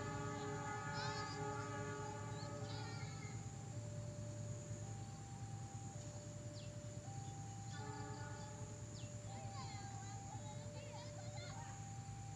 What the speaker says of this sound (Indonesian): Suara semboyannya sudah terdengar ya dari kejauhan.